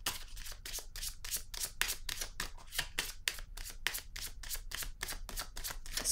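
Tarot cards shuffled and drawn: a steady run of crisp, quick card riffles and flicks, close and evenly rhythmic, with no voices.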